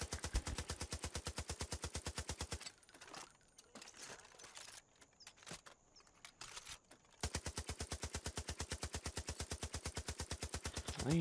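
An M60 machine gun firing continuously in Far Cry 5: a long, steady, evenly spaced rapid stream of shots, loud and close, breaking off for a few seconds into scattered clatter before the same regular burst resumes.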